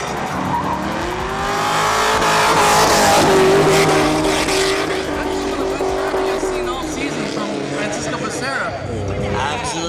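Drift cars slide sideways in a competition final, engines revving hard with sustained tire squeal and a loud surging roar that swells mid-way and holds, while a commentator talks over the action.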